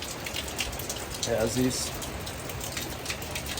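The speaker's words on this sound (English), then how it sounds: "Bloody pouring down rain again." Heavy rain pouring down at Yamba, a dense steady hiss that fills the whole clip while a voice briefly speaks over it.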